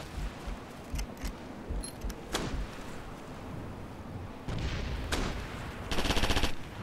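Gunfire in the video game Operation Flashpoint: Red River, with scattered rifle shots over a dense battle backdrop and a louder burst of rapid fire near the end.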